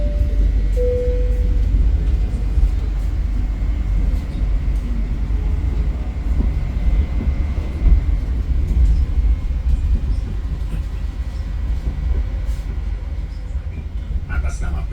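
Interior of the Gaya Baru Malam Selatan passenger train running in Indonesia, a continuous deep rumble and steady rolling drone with faint rattles, heard from inside the carriage.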